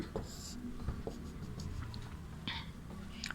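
A pen or pencil writes an answer into a blank on a Sanskrit worksheet, producing soft, close scratching strokes and light taps over a low room hum.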